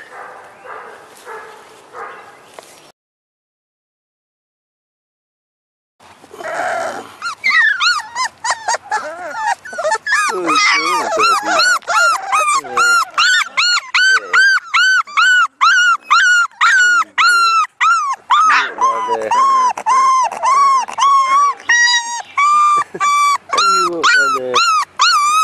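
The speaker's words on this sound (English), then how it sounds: "here's the puppy pal" A puppy yips, barks and whimpers in rapid high-pitched bursts close by, almost nonstop after a brief quiet gap, with a person speaking softly at the start.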